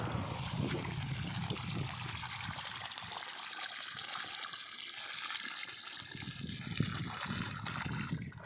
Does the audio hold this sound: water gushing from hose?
yes